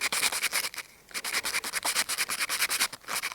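Coarse 40-grit sandpaper rubs a wooden chopstick in rapid, rhythmic back-and-forth strokes, giving a close, bright scratchy rasp. There is a brief pause near the start, and no one talks.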